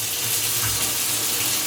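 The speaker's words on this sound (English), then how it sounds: "I'm going to run some hot water over it" Hot water pours steadily from a kitchen sink tap over beef mince, a loud, constant close rushing hiss with no voices.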